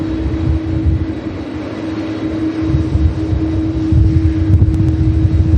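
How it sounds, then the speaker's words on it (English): An Airbus A330 with General Electric CF6 engines, on a flight to Bridgetown, Barbados, roars loudly and steadily at Manchester Airport, a broad sustained engine rumble with a constant tonal whine. "Awesome CF6 powered 330. Flight 931 to Bridgetown,"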